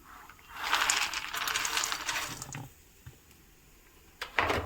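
Cashews tumble into a pan of roasting ingredients for dry ginger and jaggery laddoos, giving a rattling, sizzling burst of about two seconds, followed by a few light clicks and a closing clatter.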